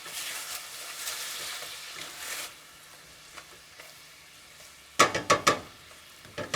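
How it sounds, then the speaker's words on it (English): A saucy vegan apple pie topping sizzles in a pan while a spoon stirs it, a soft bubbling hiss that quiets midway, then a few sharp scrapes and clinks of the utensil against the pan. "Give that a stir."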